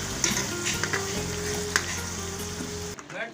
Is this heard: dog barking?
no